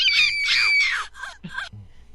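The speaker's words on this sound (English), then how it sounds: "Who's screaming? Sounds like a doll." High, shrill screaming like a doll's voice, in several strained bursts that break off near the end, loud and alone.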